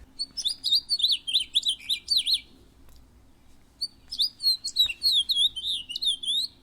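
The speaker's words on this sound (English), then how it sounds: "House finch." A house finch sings two bursts of bright, warbling song, quick tumbling notes in rapid runs with a short pause between them, close and clear over a quiet background.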